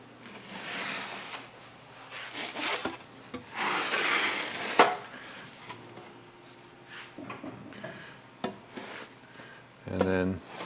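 A saw fitted with a blade guard cuts through a piece of 3/4 inch plywood in short rasping strokes close by, with pauses and a few knocks of the board between bursts.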